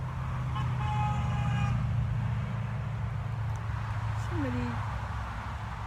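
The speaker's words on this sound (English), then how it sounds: "I think that they are honking because they like my teddy bear picnic" Car horns on a road with passing traffic, a cluster of short toots early on and a lone honk later, heard over a constant engine rumble while someone talks nearby.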